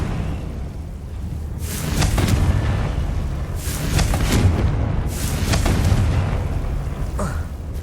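Confringo blasting spell from Hogwarts Legacy set off in an underground area: several deep, rumbling booms roll in one after another, loud and close, each swelling and fading over a steady low background.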